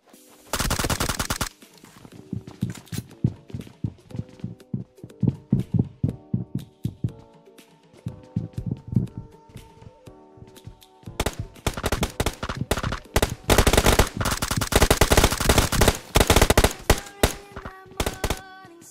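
MK14 rifle gunfire in PUBG Mobile, fired through an 8x scope: loud, sharp bursts of rapid shots come in clusters, with a dense barrage near the start and heavy sustained volleys toward the end, broken by quieter gaps.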